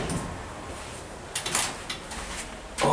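Older-style door of a United States SoftTouch hydraulic elevator sliding, with a low rumble, a couple of clunks and a latch thud near the end, close and without talk.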